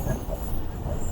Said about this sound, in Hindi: ट्रेन जो है कर्व ले रही है